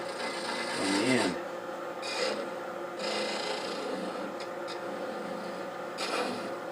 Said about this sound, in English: Okay, we'll just sand that end up.